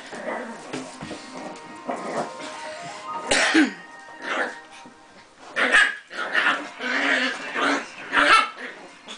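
A dog coughs and hacks in short, harsh bursts spread across the clip, close and fairly loud, with people talking quietly in between.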